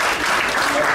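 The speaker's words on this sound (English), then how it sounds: "Let's give a hand clap" A crowd applauds steadily, a dense wash of clapping hands filling the short moment at close range.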